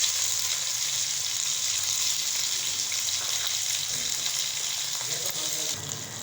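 Tomatoes for kofta pulao fry in a pan with a steady, hissy sizzle that stays fairly even and eases slightly near the end, with no talking over it.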